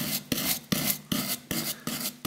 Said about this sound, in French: vous pouvez utiliser une petite brosse bijou de façon à venir sortir